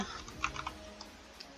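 Clicks from a computer keyboard come in a short, quiet burst of taps early on, then a few scattered single keystrokes while someone builds in a Minecraft creative world; nobody speaks.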